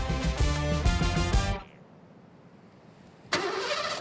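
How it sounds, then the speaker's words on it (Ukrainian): A Jeep Grand Cherokee engine starts remotely from the key fob, a short cranking catch followed by a quiet idle, then another loud burst of engine noise near the end, close and clear with no talk. "Ти можеш завести автівку з ключа."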